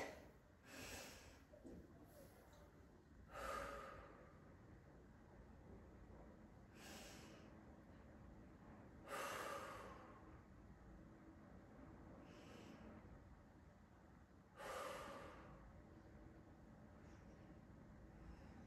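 Slow, deep breaths during a prenatal Pilates clam exercise, each inhale and exhale a soft airy swell repeating every few seconds, close and quiet, with no talking.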